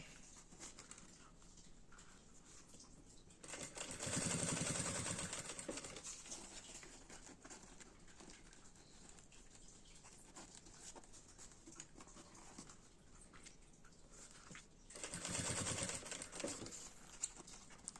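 A sewing machine runs a zipper seam in two short stitching bursts, a rapid mechanical patter near the start and again near the end, with quiet pauses between them.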